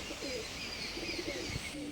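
Soft golden pigeon coos repeat close by over a steady background hum, a few low rounded calls with faint chirps mixed in.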